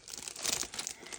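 Glossy inkjet photo paper crinkles and rustles as it is handled, a faint, close, irregular crackling over about a second.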